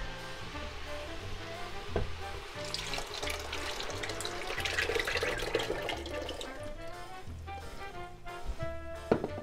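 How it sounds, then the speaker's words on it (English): Stock is poured into a pot on a stove, giving a steady splashing, running-liquid sound with a faint sizzle underneath. "So right about now we're ready to add our stock."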